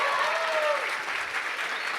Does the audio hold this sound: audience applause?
yes